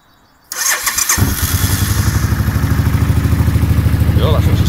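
A Suzuki Intruder M800 trike engine cranks and fires up, then settles into a loud, rapid, lumpy idle pulse close to the listener, with a person speaking briefly.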